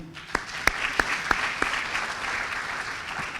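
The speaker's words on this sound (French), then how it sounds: "que je vous demande d'applaudir" Applause from an audience at an official ceremony, a steady dense wash of clapping with a few sharper, louder claps standing out near the start, continuing evenly to the end.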